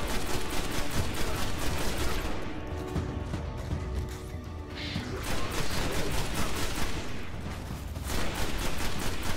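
Sustained, dense gunfire from the video game Destiny rattles almost without pause, loud and close, easing briefly in the middle before the rapid shots surge back.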